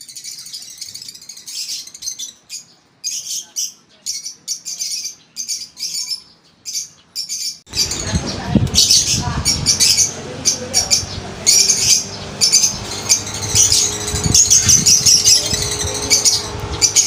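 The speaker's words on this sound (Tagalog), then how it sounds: "nakawala na naman isang ibon natin" An escaped pet bird of the whitebull split ino variety chirps in rapid bursts of high, sharp calls, then keeps calling over a louder, rushing outdoor background for the second half.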